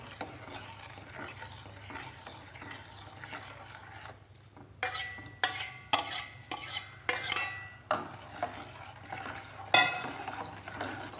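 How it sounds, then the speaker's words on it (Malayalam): Tender coconut pudding mixture stirred in a pan as it heats, with a low steady background hum and, midway, a run of distinct scraping strokes against the pan, loud and close, then a final clear scrape. "ഇളക്കിക്കൊണ്ട് തന്നെ ചൂടാക്കി എടുത്താൽ മതി."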